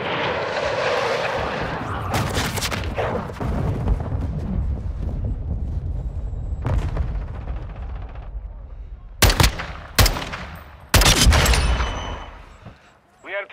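Video game gunfire crackles in loud bursts and sharp single shots over a battle soundscape, with a radio-style voice calling out objectives partway through.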